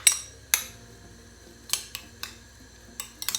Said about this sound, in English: Now I'm going to mix it